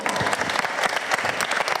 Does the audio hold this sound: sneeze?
no